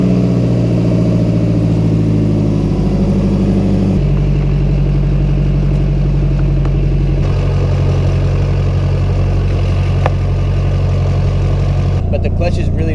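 A Nissan S13 with a new clutch and GKTECH upgrades idles loudly and close, then revs up in a few distinct steps as the throttle opens, holding a steady drone between the pulls.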